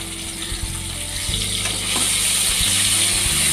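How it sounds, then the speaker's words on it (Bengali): Shrimp sizzle and fry in hot oil over a low gas flame for chichinga bhaja, a steady crackling hiss that swells louder as more pieces go into the pan, with low clattering from the cooking underneath and no talking. "এবার অল্প অল্প করে চিংড়ি মাছ তেলের মধ্যে ছেড়ে দিচ্ছি"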